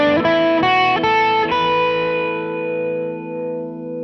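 A distorted electric guitar runs up a scale of unmuted notes, each picked note stacking onto the last as the strings keep ringing and sustaining together, then fading slowly after the final note.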